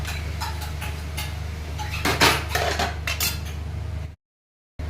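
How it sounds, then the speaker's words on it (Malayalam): Beetroot thoran is stirred in a pan, producing close metallic scraping and clinking of a utensil against the pan over a steady low hum, ending abruptly in silence before the sound resumes. "ഇനി നമ്മൾ ഇതിനെ ഒന്ന് ഇളക്കി കൊടുക്കാം നന്നായിട്ടൊന്ന് ഇളക്കി കൊടുക്കാം"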